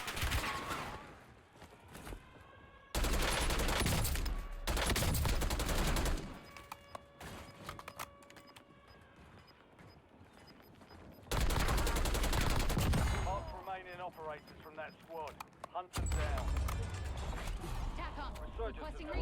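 AK rifle gunfire in the game Warzone on Rebirth Island, heard as loud, rapid automatic bursts in three separate volleys with quieter gaps of game ambience between them.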